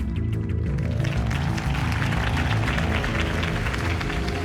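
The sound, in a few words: crowd applause after a speech, Batman: The Telltale Series video game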